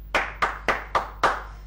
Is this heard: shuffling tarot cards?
no